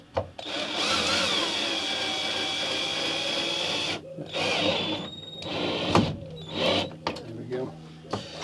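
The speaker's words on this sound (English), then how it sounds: "I'm going to have to hoover up again in this one." A vacuum cleaner hoovers inside a camper van under construction, its steady motor whine running for several seconds, then cutting out and restarting in short bursts with clunks of the nozzle.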